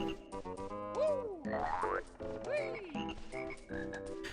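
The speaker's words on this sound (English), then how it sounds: "to the little frogs singing" Cartoonish frogs in the Banjo-Kazooie video game croak in a bouncy, musical chorus, with rising and falling boing-like calls over a steady game melody, clear and continuous.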